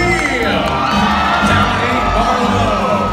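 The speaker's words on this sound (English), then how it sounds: "Give him a cheer sound!" A large audience at Dolly Parton's Stampede dinner show cheers loudly and continuously, with whoops, shouts and children's high-pitched yelling blending into a dense roar.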